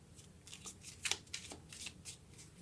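Tarot cards being shuffled by hand, a quiet crisp riffling and sliding with several short bursts over a few seconds, no talking.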